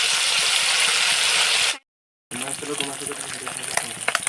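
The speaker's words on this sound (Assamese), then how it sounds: "মাছকেইটা ভাজি লওঁ" Fish fry in oil for a traditional Assamese fish curry, a loud close sizzle that cuts out to silence briefly, then resumes with clattering and a voice speaking over it.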